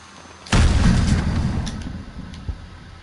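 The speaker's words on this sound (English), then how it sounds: "Grenade out!" A grenade detonates in Call of Duty: Modern Warfare, one loud, deep boom that rolls off over a couple of seconds after a quiet lead-in, with a smaller thump near the end.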